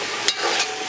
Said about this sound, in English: We're getting the sizzle now.